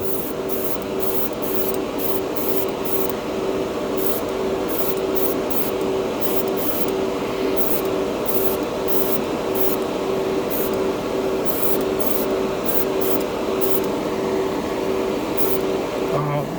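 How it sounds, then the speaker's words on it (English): A spray gun hisses continuously at 20 psi, laying down anodized yellow-gold hobby paint in one long, steady, loud spray with a faint rhythmic ticking on top and no pauses. "I'm spraying this at 20 psi"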